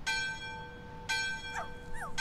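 A bell in the video game My Friendly Neighborhood rings twice, each strike a bright ringing tone that hangs and fades, with short whimpering, whining cries following the second.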